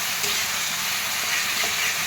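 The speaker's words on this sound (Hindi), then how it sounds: "एबे आम से अदा रसुण पेस्ट को पकईदेवा" Ginger-garlic paste fries in a pan for a cauliflower curry, giving a continuous close sizzle with faint stirring scrapes throughout.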